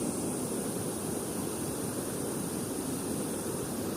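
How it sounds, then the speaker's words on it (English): A waterfall rushes in a continuous, even wash of broadband noise, steady and moderately loud with no breaks or voices. "The sound of the waterfall is making me fall asleep."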